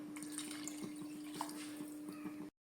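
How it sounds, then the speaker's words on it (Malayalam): Water is poured from a cup into a pot of green gram curry being cooked without coconut, a soft steady trickle and splash with faint drips, fairly quiet and close, stopping abruptly. "ഒരു കപ്പ് വെള്ളം ഒഴിച്ചിട്ടുണ്ട്"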